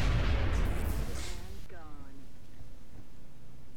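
A ship fires on a target in XCOM, a heavy booming burst of weapon fire that rumbles loudly, then quickly fades into a quieter electronic tone and low background hum.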